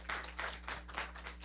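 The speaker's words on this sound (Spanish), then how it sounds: "A ver, las mujeres, dense un aplauso." Women in a church audience applauding, a short, quiet burst of scattered hand claps over a low steady hum.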